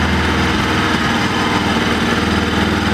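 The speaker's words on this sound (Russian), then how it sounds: "чтобы нормально прогрелось, даю немножко холостых больше" A Bajaj Pulsar NS200 motorcycle engine idles close and loud at a steady drone, warming up with a slight rise in revs held throughout, and no one talks.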